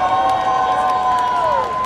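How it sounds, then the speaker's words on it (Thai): Large arena crowd cheering for the Malaysian team at a company event in Bangkok, a dense, sustained roar of many voices with a steady level throughout and no clear single speaker. "ขอเสียงเชียร์ดังๆจากทีมมาเลเซียเลยครับ"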